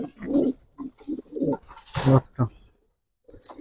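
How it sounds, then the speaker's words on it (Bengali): Soft, low cooing of a Giribaz pigeon repeats in short phrases close by, mixed with murmured voices in the background. "এটি আমার বিটার কবুতর"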